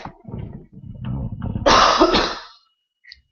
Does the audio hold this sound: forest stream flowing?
no